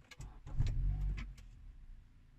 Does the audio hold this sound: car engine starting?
yes